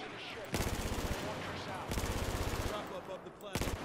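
Bursts of automatic gunfire in Battlefield 4, three rapid rattling volleys separated by short pauses, loud and close, with game noise underneath.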